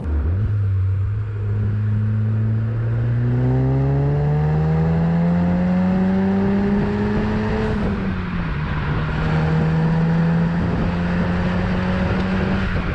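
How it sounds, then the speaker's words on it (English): A turbocharged car fitted with a CTS Turbo 3-inch cat-back exhaust accelerates hard, its droning engine note climbing steadily in pitch through a gear, dropping at a shift, then pulling again, loud and close. "once you get onto a road where you can actually open this exhaust up, everything changes"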